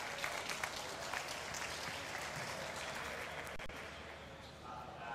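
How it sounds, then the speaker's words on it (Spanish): Audience clapping for a volunteer at a maths-themed magic show, a dense steady round of applause at moderate distance that continues throughout with a faint voice underneath. "Un aplauso para Susana"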